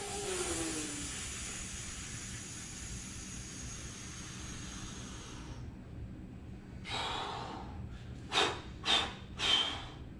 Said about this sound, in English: Now a controlled, slow inhale.